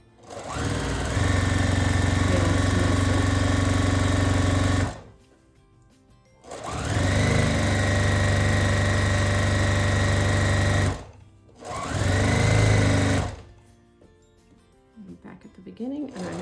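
A sewing machine stitches a seam on a badge lanyard in three loud, steady runs of humming motor and rapid needle chatter, separated by short pauses, with a quiet voice after the last run.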